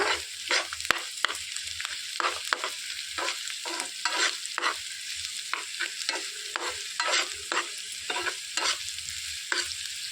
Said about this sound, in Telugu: ఉప్పు వేసుకున్నాక ఉల్లిపాయలు అనేవి తొందరగా వేగిపోతాయి.